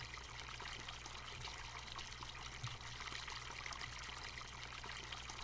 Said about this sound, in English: All right, I guess this is for filling water.